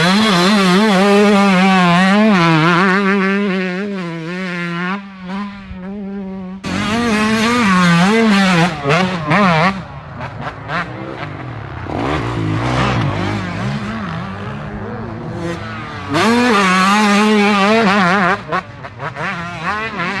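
A 2021 Yamaha YZ125 two-stroke dirt bike rides a wood chip and dirt track, its engine screaming and revving hard for about twenty seconds with rapid shifts and throttle blips, loud and close, no talk.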